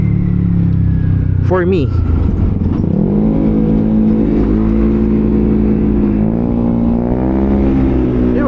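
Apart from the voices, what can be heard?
engine revving at high RPM with open exhaust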